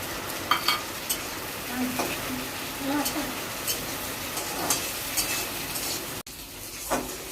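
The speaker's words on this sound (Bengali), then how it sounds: "তারপর দেবো পেঁয়াজগুলো। টমেটোগুলো দিয়ে দেবো।" Onions and tomatoes fry in a pan with five-spice and dried chillies, a steady close sizzle broken by occasional stirring scrapes and clinks, with a voice talking over it.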